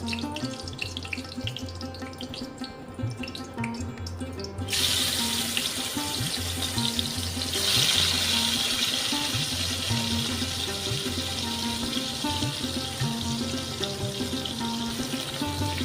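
Pieces of bhetki fish sizzle and spit in hot oil for a kalia curry, a steady loud hiss like running water with a sharper surge as more pieces go in, with no talking.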